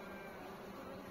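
Wasps buzz in a dense, continuous drone at a beehive apiary, close and steady without a break.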